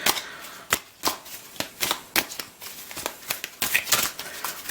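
Tarot cards being shuffled by hand: a series of crisp, sharp riffling snaps and papery slaps in an irregular rhythm, close and clear, with no talking.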